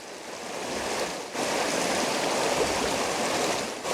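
Water rushes steadily through a gold sluice with a new sluice mat and pump, a loud, close, continuous broadband wash with one brief dip, and no talking.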